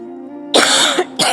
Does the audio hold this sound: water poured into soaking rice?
no